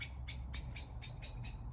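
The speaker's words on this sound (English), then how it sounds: "Blackbird" A blackbird calls in the evening, giving a steady series of about seven sharp, evenly spaced notes over a low outdoor rumble, moderately distant and clear.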